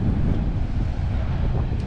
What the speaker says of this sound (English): Those are huge waves.